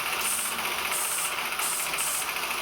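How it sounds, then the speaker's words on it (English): A Clydon 13/4 toy steam engine from around 1947 to 1953 blows its whistle, a thin airy hiss that keeps pulsing over a steady hissing, rattling running noise, loud and close, with no voices. "The whistles aren't usually very good on toy steam engines, so we'll give this one a try and see what it's like."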